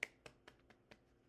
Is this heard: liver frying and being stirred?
no